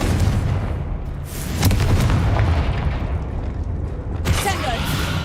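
Confringo fire spell in Hogwarts Legacy, played on PC, bursting as a loud, booming blast amid dense, continuous game combat noise, with a second sharp burst near the end.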